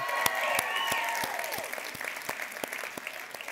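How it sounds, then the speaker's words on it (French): An audience at a live comedy show applauds with scattered, distinct claps that carry on steadily and fairly softly, alongside a brief tonal sound near the start. "vous pouvez déjà vous applaudir"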